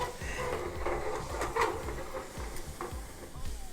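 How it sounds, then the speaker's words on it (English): Orange chicken wing sauce is stirred in a hot pan, the spoon scraping in a steady repeating rhythm over a soft continuous sizzle, close and moderately quiet. "we are gonna add our sauce to the hot pan, and we're gonna continue stirring it until our sauce starts to reduce"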